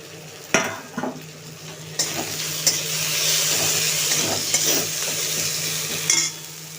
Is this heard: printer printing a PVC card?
no